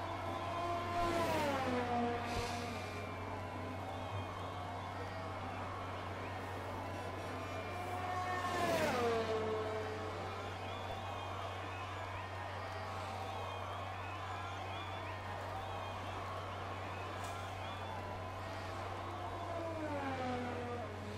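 Formula 1 car engine from the F1 2020 racing game at the Austrian circuit, heard as sweeping pitch rises and falls of passing cars over a steady hum, with a voice talking throughout.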